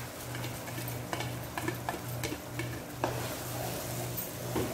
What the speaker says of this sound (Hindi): अब इन मसालों को भूनना है